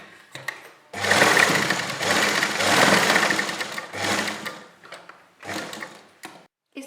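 A sewing machine runs in bursts while stitching the shoulder seam of a kurti, with a long steady run followed by shorter start-stop stretches and brief pauses between them.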